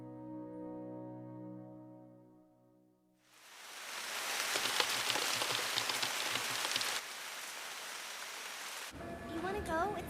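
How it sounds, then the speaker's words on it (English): Steady rain falls heavily after a quiet opening of soft tonal music, a dense continuous patter that fills the rest of the clip. "It's raining, though."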